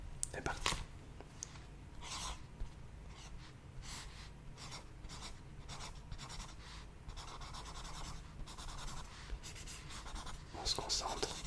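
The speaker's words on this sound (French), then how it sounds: "on a 20 secondes pour dessiner une souris" Pen or pencil scratching quickly across paper while a mouse is drawn against a 20-second clock, a busy stream of short scribbling strokes, close and quiet, with faint breathing and soft voices.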